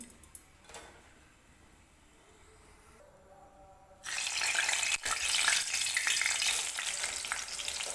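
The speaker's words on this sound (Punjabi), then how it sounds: "ਇਹਦੇ ਵਿੱਚ ਆਪਾਂ ਫਰਾਈ ਕਰ ਸੈਲੋ ਫਰਾਈ ਕਰਾਂਗੇ ਮਸ਼ਰੂਮ" Mushrooms drop into hot refined oil for shallow frying. After a few seconds of quiet, a loud, dense sizzle bursts in and holds steady and close to the end, with no talking.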